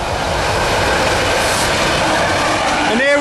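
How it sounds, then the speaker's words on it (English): A coal train rolls past on a railway line close by during a Cumbrian country walk, a steady loud rumble of wagons with faint clatter throughout and a brief rising squeal near the end. "here we've got the coal train just in front of us."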